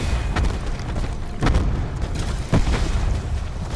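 Heavy booms and explosive bursts from a grenade-launching pistol-shotgun hybrid in a video game, with two sharp loud blasts standing out over a dense, continuous rumble of gunfire and explosions.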